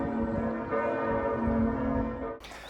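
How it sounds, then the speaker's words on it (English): Cathedral church bells ring continuously in a dense, sustained peal with overlapping tolls, loud and steady for most of the stretch before cutting off abruptly near the end. "the bells at the cathedral have been just playing like this"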